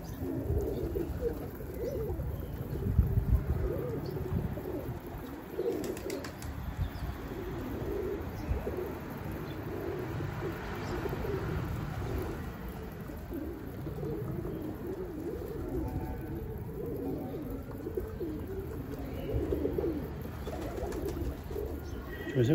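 A Telli Kelebek pigeon coos in low, repeated throaty phrases against a steady background hum, with occasional faint chirps and rustles nearby.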